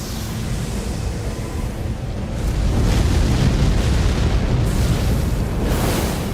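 A huge explosion erupts during the Messmer boss fight in Elden Ring, a dense roaring blast that swells and rumbles continuously for several seconds, loud and broadband with no voices over it.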